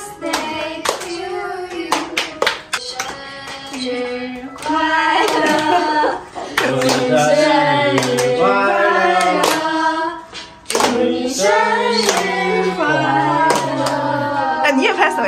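Kids clapping hands in rhythm at a 12-year-old girl's birthday party at home while voices sing along, sharp claps spaced along with the tune, near and lively.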